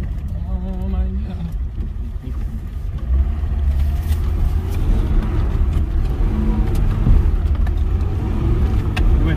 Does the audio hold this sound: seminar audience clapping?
no